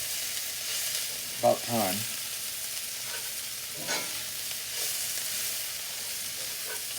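Chicken pieces browning in a single skillet for French onion chicken crackle and sizzle steadily while being rolled and turned, with a couple of brief knocks and a short spoken remark over the frying.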